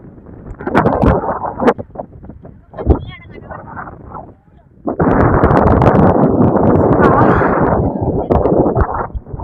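Heavy wind buffets a phone microphone in roaring gusts and booming thumps, near and loud, swelling into a long sustained rush after a short lull.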